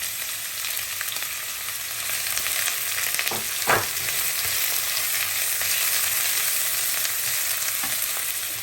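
Onions frying in a pan give a loud, dense, continuous sizzle and hiss, close up and unbroken, with one or two brief stirring scrapes partway through and no voices.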